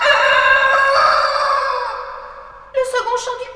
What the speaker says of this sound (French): Le second chant du coq.